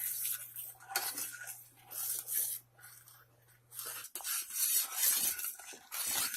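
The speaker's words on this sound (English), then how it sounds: "I can feel it at the bottom of the pan as I'm stirring it" A spoon stirs thickening caramel sauce in a pan on the heat, for butter pecan sweet potatoes. Intermittent scraping rasps and soft clinks against the pan bottom come in uneven strokes, close and fairly quiet, with no talking.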